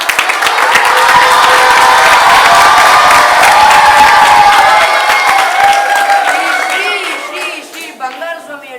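An audience at a school event in Bangalore breaks into loud applause with cheering and shouts from children, a dense crowd of claps that stays strong and then thins out and fades near the end.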